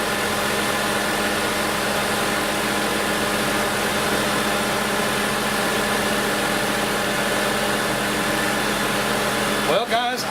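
A 2008 Ford Escape idles steadily at close range with its air conditioning compressor pump engaged, giving a constant engine drone and vibration throughout, with a brief disturbance near the end.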